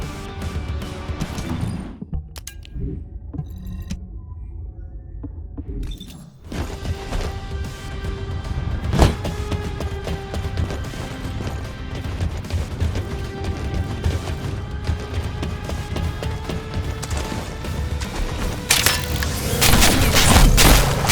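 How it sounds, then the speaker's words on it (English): A structure in The First Descendant video game is destroyed by a quantum disintegration trap: repeated booming crashes and crumbling impacts with dense layered debris noise, loud and sustained, building at the end. "The quantum disintegration trap is activated, and the structure that leads to the terminal is completely destroyed."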